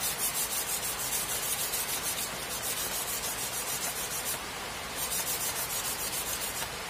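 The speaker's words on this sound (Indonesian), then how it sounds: "Jadi kita gosok di amplas di atas kaca." Steady rhythmic rubbing as a motorcycle oil-bolt o-ring is sanded on sandpaper laid over glass, a close, dry scratching stroke repeating back and forth with no voices.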